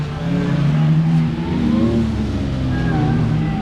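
At an after-work drift event on a track, a car engine revs and roars at moderate distance with rising and falling pitch as it drifts, and a voice is faintly audible underneath.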